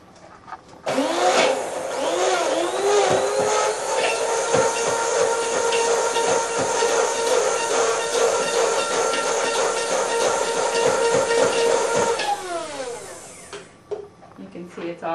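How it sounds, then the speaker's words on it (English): A hand blender runs steadily for about eleven seconds while mixing fermented vegetables, a loud continuous whirring drone with a slight rising and falling pitch, then it cuts off and a few small clicks follow. "hand blender."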